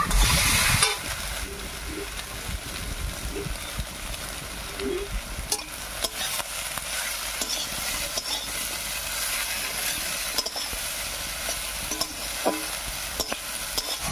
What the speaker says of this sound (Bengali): হলুদ লবণ দিয়ে খুব ভালো করে মিশিয়ে নিয়েছি।